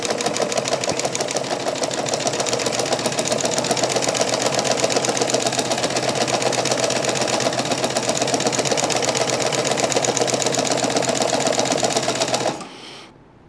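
A Singer 114W103 chainstitch embroidery machine runs steadily at speed, a loud, even rapid mechanical clatter sustained for over twelve seconds before winding down abruptly at the end, with no talking.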